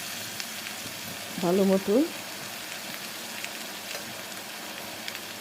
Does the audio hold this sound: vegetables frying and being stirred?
yes